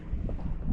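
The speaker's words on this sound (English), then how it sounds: "The wind is picking up." Strong gusting wind buffets an open microphone outdoors on the Gulf side of central Florida before a big storm, a brief low rumbling roar with uneven surges.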